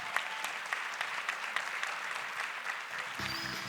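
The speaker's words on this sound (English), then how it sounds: "Please give our anonymous donor a big round of applause." Steady applause from an audience at an awards auction, dense claps filling the whole stretch at moderate level, with a short sustained tone appearing near the end.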